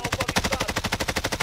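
Rapid automatic gunfire from Call of Duty Warzone, a fast even burst of about twenty shots in a second and a half, moderately loud.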